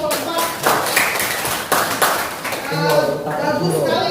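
Classroom applause for a group of students, a burst of close, dense clapping from many hands, with children's voices and chatter mixed through it.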